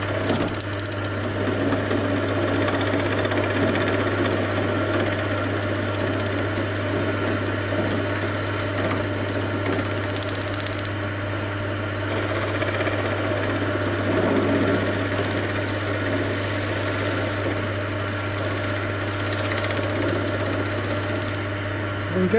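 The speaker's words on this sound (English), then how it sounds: "So this is me practicing with a skew chisel." Skew chisel cutting on a woodturning lathe while making a cup, a steady motor hum under a continuous scraping, hissing cut that swells and eases in places.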